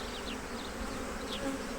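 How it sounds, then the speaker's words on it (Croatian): Honey bees buzz steadily around a hive during a spring colony inspection, a continuous, moderately loud insect drone with a few brief, higher whining passes from individual bees flying close by. "Ipak su tu naše pčele."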